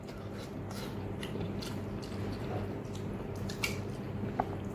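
Close, soft chewing and biting of home-cooked food, with wet mouth sounds and faint clicks over a steady low background hum; no talking.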